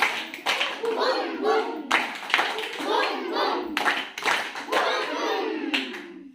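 Rhythmic hand clapping in a 'boom boom' classroom clap pattern, repeated groups of sharp claps in a steady beat, loud and close, with voices chanting along in places.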